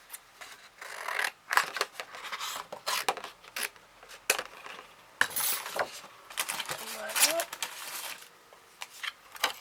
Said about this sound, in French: Je vais faire exactement la même découpe dans du papier miroir.